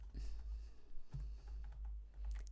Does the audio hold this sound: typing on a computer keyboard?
yes